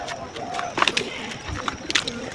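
Pigeons on a farm cooing softly with a few sharper calls and flutters, heard at moderate distance with faint talk in the background.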